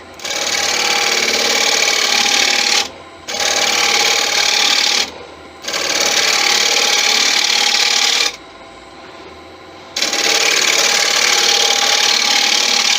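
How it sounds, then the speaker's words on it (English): Woodworking tool cutting punky wood in a shop, a loud steady buzzing and rasping cut in four long runs separated by short pauses, close and alone. "I'm not scraping this, I'm cutting it"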